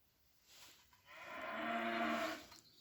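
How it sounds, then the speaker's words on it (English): Cattle at feeding time let out one drawn-out, fairly faint moo, rising and holding for about two seconds in a quiet indoor space before fading. "Sorry about those cows."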